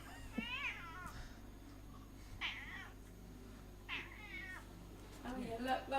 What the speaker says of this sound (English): That's the cat. We got a rescue cat.